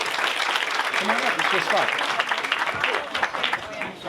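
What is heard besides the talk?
audience applause for the national anthem singer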